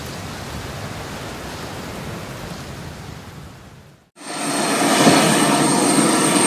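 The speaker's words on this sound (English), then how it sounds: "Just how loud is an F-16 when it starts up? That's how loud!" An F-16 jet engine starting up at Oshkosh: a loud, steady roar bursts in after a brief silence, broadband and close, following a stretch of softer rushing noise.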